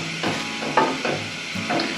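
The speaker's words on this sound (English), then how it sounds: "And then give it a stir." Spoon stirring pasta with bay leaves in a pot on a stovetop, a few short scraping strokes close up, fairly loud with faint sizzling underneath.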